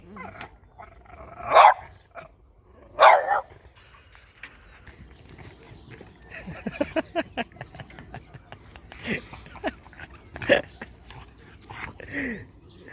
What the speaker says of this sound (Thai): เห่ากันดีนัก